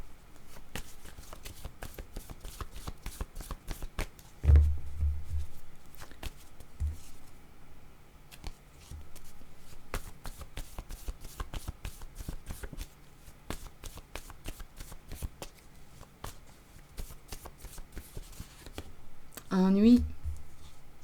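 A deck of cards is shuffled for a card reading, with crisp repeated riffling and tapping of cards going on throughout, close and fairly quiet, with occasional brief background sounds.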